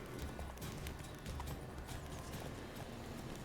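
Roach the horse galloping in The Witcher 3, rhythmic clip-clop hoofbeats pounding along steadily at close range, with no talk over them.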